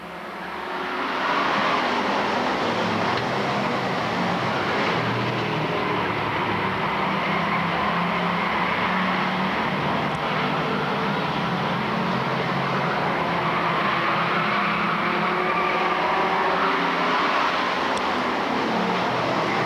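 Bomber-class race car engines revving together at Lakeport Speedway during a main event restart, a dense, continuous roar with a broad rumble that holds steady and loud throughout.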